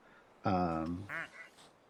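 A single loud, nasal duck quack sounds from an idle video game where ducks drop into a pool, followed by a softer trailing squawk.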